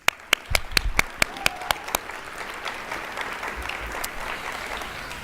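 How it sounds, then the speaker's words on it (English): Audience applause at a KCKCC nursing pinning ceremony in 2023: a run of sharp, separate claps opens, then settles into a steady, even wash of clapping from a large crowd. "Please give yourselves a big round of applause."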